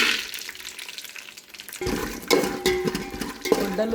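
Steady crackling sizzle of half a cup of peanuts roasting in two ladles of hot oil, growing louder and busier midway with occasional stirring scrapes.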